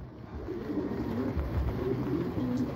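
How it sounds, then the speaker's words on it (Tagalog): A large flock of racing pigeons passes overhead during a training toss in Pozzorubio, Pangasinan, a steady soft rush of wings with low cooing beneath it, fairly loud and unbroken throughout. "Ayan yung mga ibon nagdadaanan na."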